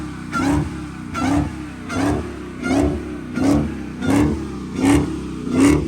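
A Dodge Hellcat with its supercharger howling revs hard in the snow, giving a steady run of eight or nine rising, pulsing blips about once every 0.7 seconds, loud and close with no talking.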